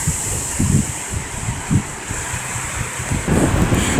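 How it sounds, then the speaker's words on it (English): Strong, steady wind roars across a beach beside a lighthouse after rain, buffeting the microphone with low gusts over a constant hiss of blowing air and surf. "it is crazy windy down here"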